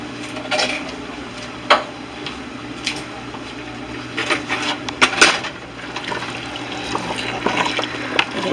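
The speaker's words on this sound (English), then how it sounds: "I'm adding in my chickpeas to cook in with it." Canned chickpeas are tipped into a pot of curry chicken and stirred, giving wet sloshing and liquid splashes with occasional clinks against the pot, moderately close and with no talking.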